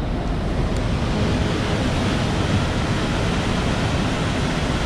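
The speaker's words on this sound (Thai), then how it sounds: "กระแสของน้ำไหล" Powerful water rushes continuously at Khone Phapheng waterfall in southern Laos, a dense, steady roar of churning current at close range with wind buffeting, and no talking.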